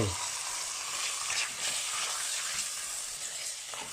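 Pork sizzling steadily in a hot pan with garlic, coriander and pepper, a loud, continuous frying hiss with small crackles and occasional stirring.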